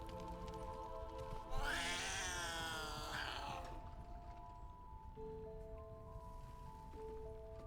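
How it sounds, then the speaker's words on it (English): A cat in Baldur's Gate 3 gives a single drawn-out, rising and falling meow that stands out clearly over a steady game ambience, with faint musical tones continuing afterward. "There is a cat."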